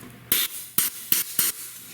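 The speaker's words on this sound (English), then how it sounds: "and we're going to spray some of that right there" Four short hissing bursts of cleaner lubricant sprayed from an aerosol can onto a 1936 Grunow Teledial 1291B console radio, evenly spaced and close up.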